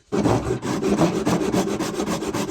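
Close, loud hand sawing through wood: rapid rasping back-and-forth strokes in a steady rhythm, starting abruptly and continuing without pause.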